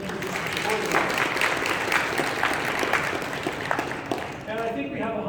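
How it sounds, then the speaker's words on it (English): Audience applause at a cattle industry conference keynote, a dense wash of clapping that fills the room for several seconds, with some talk mixed in toward the end. "let's give them an applause"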